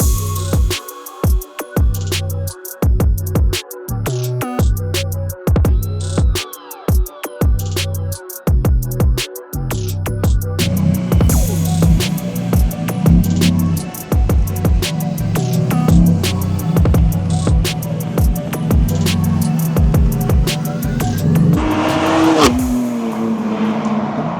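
A widebody BMW M2 race build drives hard around Shenandoah Motorsports Park, its loud engine revving up and down through gear changes with stuttering bursts, then settling into a sustained roar with tire noise, heard up close with no talking.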